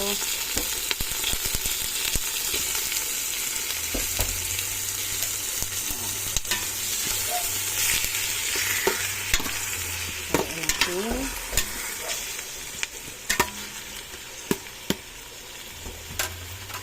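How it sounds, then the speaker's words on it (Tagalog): Pork sizzles steadily in a hot pan while being stir-fried with tomato, a continuous crackling hiss broken by scattered sharp utensil scrapes and clicks, close and moderately quiet. "Mix natin yung ating baboy dito"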